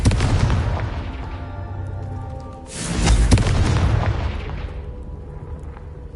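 A Confringo blasting spell in Hogwarts Legacy goes off twice as heavy booming explosions, each a loud close blast that rolls and fades out over a couple of seconds.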